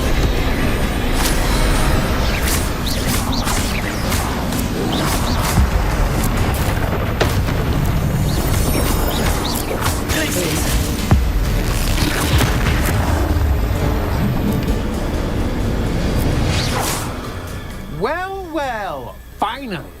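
Confringo blasting curse explosions in a Harry Potter video game: heavy booming blasts in dense, loud game sound that never lets up, with voices talking over it.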